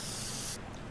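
A single short burst from a spray paint can in the game Teardown, a bright steady hiss that cuts off abruptly, leaving a low ambient hum.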